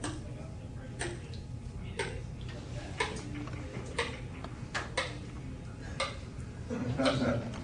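A spoon stirs a cup of hot chocolate with steady, roughly once-a-second clinks against the cup. The clinks ring clear and fairly close, with quiet talk in the background.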